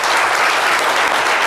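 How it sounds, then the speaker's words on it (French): Dense, steady applause from a talk-show audience fills the whole stretch at close range, a continuous wash of clapping with no voices above it. "Ça s'applaudit véritablement."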